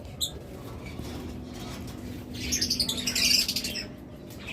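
Pet birds at a breeding farm, including lovebirds, cockatiels, budgerigars and Australian doves, burst into a loud cluster of harsh squawks and chatter midway over a quiet background hum, with an earlier brief call.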